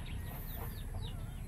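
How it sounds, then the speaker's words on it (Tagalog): Chickens on a Filipino backyard lot beside a newly fenced 200 sqm plot, giving soft scattered clucks and calls over steady low outdoor rumble, with no one speaking. "Mga manok natin."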